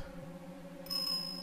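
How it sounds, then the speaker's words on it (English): A bright bell chime rings out in the Ace Attorney Investigations 2 game, a sustained high tone sounding over steady background music on a dark street scene. "A bell."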